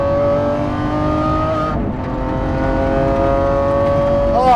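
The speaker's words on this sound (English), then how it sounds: "I am driving a 2020 Lamborghini SVJ." A 2020 Lamborghini SVJ pulls hard, its engine roaring loud and close from inside the cabin with steady rising harmonics, a brief dip as it shifts near the middle, then a sharp rev flare at the end.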